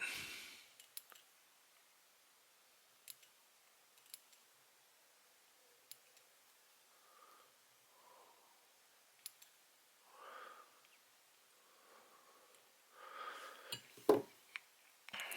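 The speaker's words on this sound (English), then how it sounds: "I'll pull down on the barbs and cut those short for a crew cut." Small scissors snipping feather barbs short while tying an Ausable Bomber dry fly, a few faint, sparse clicks spread across a quiet stretch, with soft handling noises and a sharper snip near the end.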